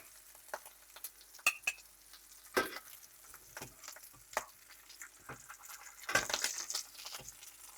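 Salami frying in a pan: a faint, quiet sizzle broken by scattered sharp pops and crackles, with a louder burst of spattering near the end.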